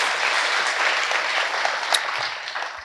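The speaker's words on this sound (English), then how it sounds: "Let's give him a big round of applause." An audience at a live startup event claps in a dense, sustained wash of applause that is close and loud throughout, tapering slightly at the end.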